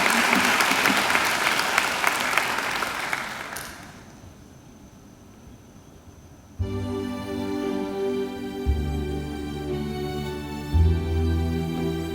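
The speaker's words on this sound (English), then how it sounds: "I think she deserves another great round of applause." Applause fills a university graduation ceremony hall for about three seconds, then fades to quiet before music begins.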